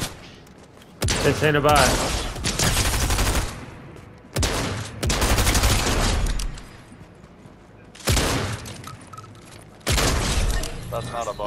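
Guns in a shooter video game fire in loud, sustained bursts of rapid automatic shots, several volleys separated by short pauses, with a player talking between them.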